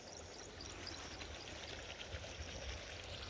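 Water gushes steadily from a broken pipe at an outdoor tank by a farm field, a faint continuous rushing flow with no breaks.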